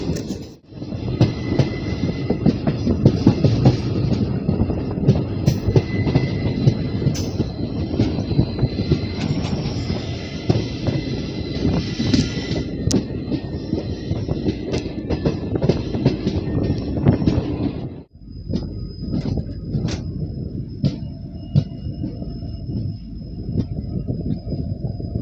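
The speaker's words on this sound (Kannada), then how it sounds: "ನಾವು ಡಿಪಾರ್ಚರ್ ಆಯ್ತು ರಾಯಬಾಗ್ ರೈಲ್ವೆ ಸ್ಟೇಷನ್ದಿಂದ" Belagavi–Miraj passenger train running after leaving Raybag railway station, heard from on board as a loud, continuous rumble of wheels and carriage noise that dips briefly before carrying on.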